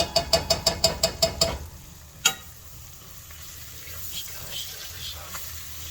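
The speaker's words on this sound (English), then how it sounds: "I'm just gonna stir this up" A quick burst of rhythmic clacks as a utensil stirs Mongolian beef sauce thickened with cornstarch and oil in a pan, followed by a single sharp knock and a soft sizzle that fades beneath faint background sound.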